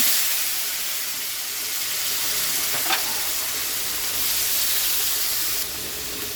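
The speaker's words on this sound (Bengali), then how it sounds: "মাংস ভাজার তেলে আমি পেঁয়াজ কুচানোটা দিয়ে দেবো।" Chopped onion frying in oil already used for frying meat gives a steady, close hiss with one brief clink partway through, and the sizzle continues without a break.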